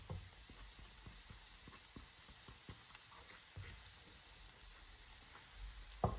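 Garlic sizzles in butter with translucent onions in a pan for littleneck clams with angel hair pasta, a steady close hiss with light crackle and a few soft taps, no talking.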